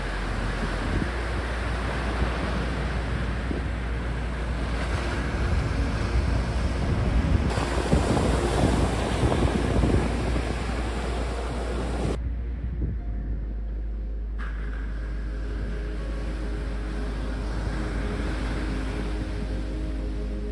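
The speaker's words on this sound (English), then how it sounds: "So you can see the waves are getting even bigger now" Open-sea waves and strong wind roar continuously during a long-distance coastal swim from Vilamoura to Quarteira, with steady loud surf wash and gusty microphone buffeting, briefly dipping and shifting partway through.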